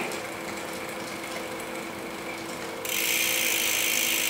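A bicycle's rear derailleur and chain grind noisily on a sprocket while badly adjusted, giving a steady close ratcheting whir with a continuous rattle, which suddenly turns harsher and louder near the end.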